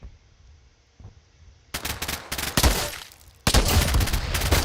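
Gamepass weapons firing in Roblox: after a quiet start with a faint click, loud rapid bursts of gunfire break out, pause briefly, then resume as dense automatic fire, with no talking.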